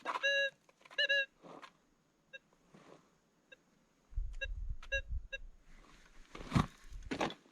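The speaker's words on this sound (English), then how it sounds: "You can tell by the little beeping." Short electronic beeps sound in scattered bursts, some doubled, fairly faint, with rustling and low thumps of handling in between.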